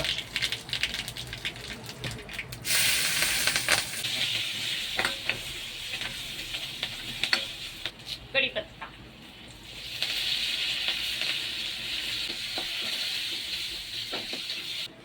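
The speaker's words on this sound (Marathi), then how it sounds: "तेल गरम झालंय आपलं थोडीशी राई टाकूया थोडीसे जिरा थोडस हिंग" Mustard seeds, cumin and asafoetida sizzle in hot oil, a bright steady hiss in two loud bursts with a quieter stretch of crackles and stirring between them; no talk.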